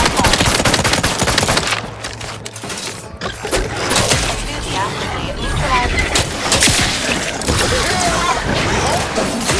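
Rifle fire in The Outer Worlds 2, bursts of shots rattling loud and close, then pausing briefly before resuming amid clanks and impacts, with voices speaking over the fighting.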